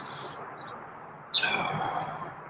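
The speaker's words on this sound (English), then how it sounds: "There's a lot of birds in here a lot of birds back here today." Many small birds chirping indoors, with bright high tweets in short bursts, a sudden louder flurry of calls midway that continues steadily to the end, moderately close.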